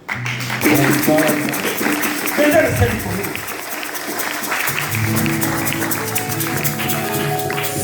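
Audience applause at an engagement ceremony, a steady wash of clapping mixed with music and voices that holds for several seconds, swelling slightly near the start and again midway.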